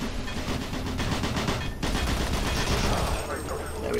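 Gunfire in Doom 3 on Xbox 360, a dense, continuous stream of rapid shots with barely a gap throughout, loud and close.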